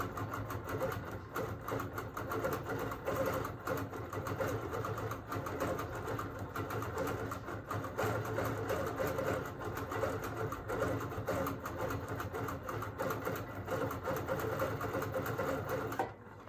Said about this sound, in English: I can fill in my ruler work with some free motion quilting